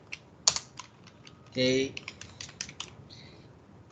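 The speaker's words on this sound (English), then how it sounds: "Just use keyboard, it's a very fast way." Computer keyboard keys clack in quick irregular bursts, close and crisp, with a short spoken word and a brief louder burst in the middle.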